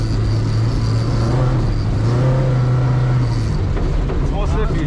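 A rally car accelerates on an ice track, its engine droning steadily and rising in pitch from inside the cabin while people talk over it.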